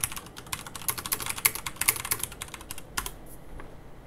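Rapid, uneven clatter of fingers typing on a computer keyboard while code comments are written, close and fairly quiet, with bursts of keystrokes and brief pauses, no talking.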